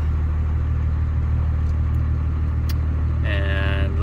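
A 1st Gen Cummins diesel engine idles in a steady, loud low rumble throughout, with a brief higher-pitched tonal whine rising near the end.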